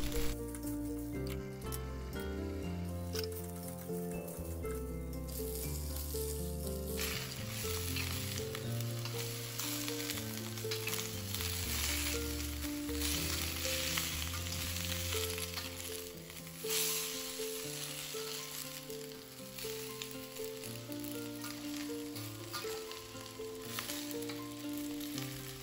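Capcay vegetables hiss and sizzle steadily in a pan with a little added water, the constant frying broken by occasional stirring scrapes, close and alone without talk.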